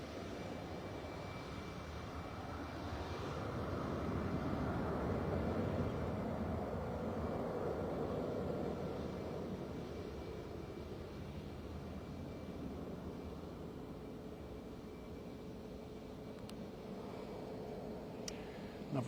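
An airliner takes off at Bristol Airport, its engines a broad, loud roar that builds, holds and slowly fades as it climbs away, heard from outside at a distance with no talking.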